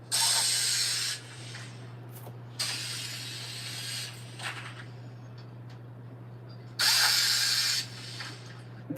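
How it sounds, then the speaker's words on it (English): Bus doors opening: bursts of loud pneumatic hissing, three in all and each about a second long, over a steady low engine hum, with small mechanical clunks between them and no talking. "That's the sound of the doors opening to the bus."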